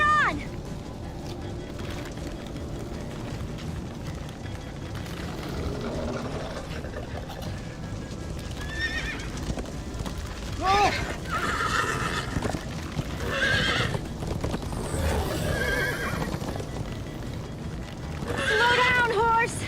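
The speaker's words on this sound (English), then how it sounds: "Slow down, horse!" Horses whinnying and neighing in a Minecraft-style story game, several calls rising over a busy mix of game sounds and music with voices talking throughout.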